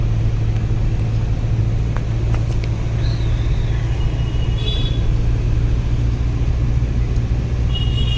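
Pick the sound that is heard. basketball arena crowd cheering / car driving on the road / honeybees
car driving on the road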